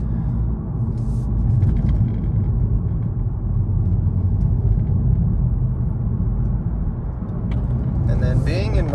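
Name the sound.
turbocharged daily-driver car driving through curves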